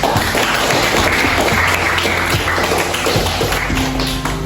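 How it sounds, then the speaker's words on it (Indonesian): Participants at a simulated legislative council session applaud loudly and continuously after approving a draft law, dense claps with table taps and thumps mixed in. "Mari kita beri tepuk tangan buat kita semua."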